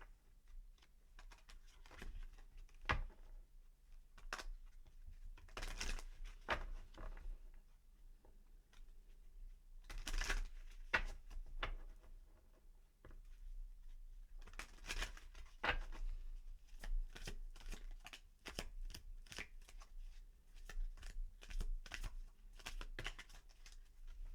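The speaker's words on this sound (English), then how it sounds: "let's get you some romance angel cards as well" Oracle-style romance angel cards are shuffled by hand in a quiet room, producing repeated soft riffling bursts and papery flicks at an irregular rhythm, close and moderately loud, with no talking.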